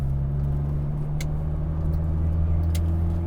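A small, light classic Mini with a 1-litre, 40-horsepower engine drives along country lanes, its steady, droning engine hum heard from inside the car without speech.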